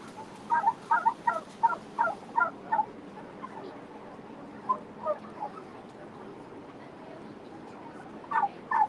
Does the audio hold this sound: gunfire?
no